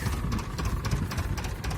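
An Ursus C-330M tractor engine idles close by, a rough, steady low chugging rumble with a quick pulsing rhythm and no speech over it.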